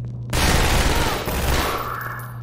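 Sustained rapid gunfire from shooting in Half-Life 2 erupts loudly after a brief pause and continues as a dense, continuous burst to the end.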